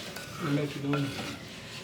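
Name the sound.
stirring curd into paneer masala gravy in a pan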